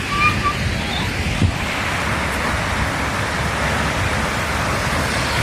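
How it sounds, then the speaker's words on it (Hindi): Water from a river flows steadily into a pond at Hatta Dam, making a continuous broad rushing wash that stays even throughout with no clear breaks. "ये तालाब नदी की है, इसमें आ रहा है और उधर आगे जा रहा है।"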